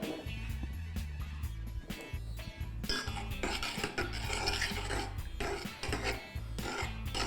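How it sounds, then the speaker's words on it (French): Soft scraping and rasping of a spoon against a pot as a spoonful of cream goes into soup, with repeated clinks and stirring rubs and a steady low hum underneath. "Puis rajouter une cuillère de crème."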